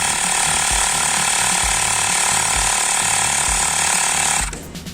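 Xiaomi Mi portable electric air compressor inflating a tire, giving a loud, steady mechanical buzz with a regular low thumping pulse that cuts off just before the end.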